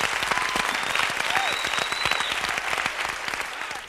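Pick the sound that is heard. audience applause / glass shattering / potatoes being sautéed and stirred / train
audience applause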